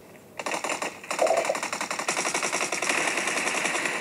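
Gunfire in the mobile battle-royale game PUBG: sustained rapid automatic bursts rattling continuously and loudly, growing denser toward the end, with no speech.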